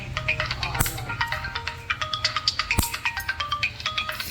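A cellphone plays a bright electronic melody ringtone, a rapid repeating sequence of tones that is close and clear, with two sharp knocks partway through and no talking.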